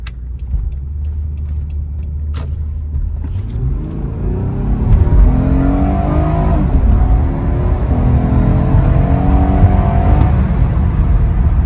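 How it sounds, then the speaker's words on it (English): A 2007 Honda Accord EX-L with a V6 engine pulls hard under acceleration, its loud engine note climbing steadily through the gears from a low rumble, heard from inside the car with no talking. "It pulls hard. Like, it's still a strong engine."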